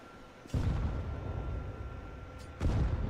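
Two heavy low booms from a grenade detonating in Counter-Strike: Global Offensive, one early and one near the end, each with a broad rumbling tail over steady background hum.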